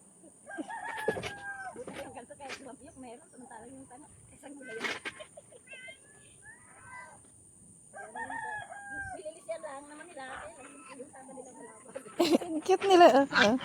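Newly hatched baby goslings give high, thin peeping calls in scattered bursts, close and moderately loud, with people's voices mixing in and a busier cluster of calls at the end.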